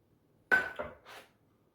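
Ingredients dropping into a medium saucepan for brownies give a short clatter of impacts, one sharp knock followed by two softer clinks and rustles, close and alone in a quiet room.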